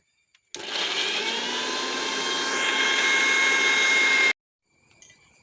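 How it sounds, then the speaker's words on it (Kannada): A mixer grinder whirs loudly as it grinds jackfruit pulp with grated coconut and very little water. The motor starts abruptly, runs steadily for nearly four seconds, then cuts off. "ಇದನ್ನು ನಾವು ಆದಷ್ಟು ನೀರು ಹಾಕದೆ ಗ್ರೈಂಡ್ ಮಾಡಲಿಕ್ಕೆ ಟ್ರೈ ಮಾಡಬೇಕು"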